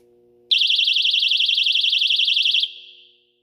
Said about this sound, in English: the alarm is 140 decibels. So I'll give you a brief taste.